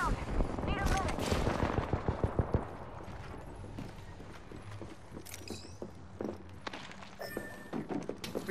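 Enemy squad gunfire in the video game Apex Legends, a flurry of rapid shots in the first few seconds, then sparser distant bursts and footsteps, with a voice talking over it.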